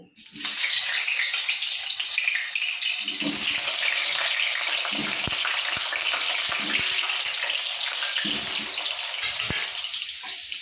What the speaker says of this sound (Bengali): আমি কড়াইয়ে তেল গরম হয়ে গেছে, আমি প্রথমে আলুগুলো লাল করে ভেজে নেব।